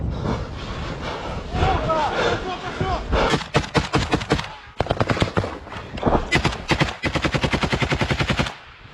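Automatic rifle fire in a combat position, rapid bursts cracking out in quick rhythmic volleys, loud and close, with shouting voices over the opening seconds before the sustained firing.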